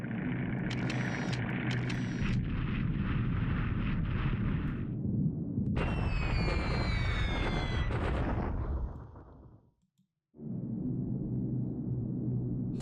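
Explosions from a bombing raid on industry in a World War II strategy game, a long heavy rumbling roar with a higher whistling layer and a sweeping whine that dies into a brief silence before the rumble returns.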